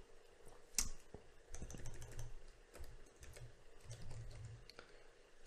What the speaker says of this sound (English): Click on this and type in